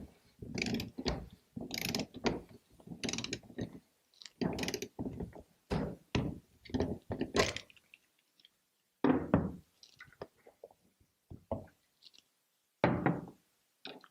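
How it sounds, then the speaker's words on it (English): Torque wrench tightening a 6-inch cap to 70 foot-pounds, repeated close ratcheting clicks in quick bursts with short pauses between strokes. "With the torque wrench, torque to 70 foot-pounds."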